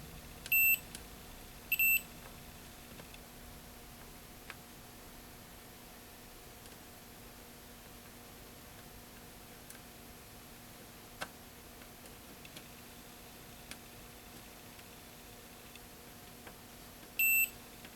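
A continuity tester beeps while probing an arcade circuit board from a 1980 Williams Electronics Defender, giving short high electronic beeps: two close together at the start and one near the end, over a steady faint electrical hum.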